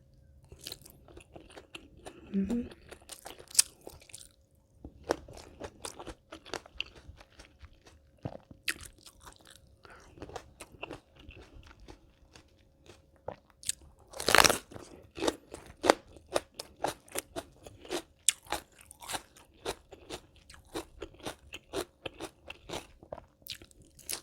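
Spicy Thai salmon salad with pork sausage and fermented fish sauce eaten close to the mic, with crisp irregular crunches, chewing clicks and wet bites, one louder crackling burst midway.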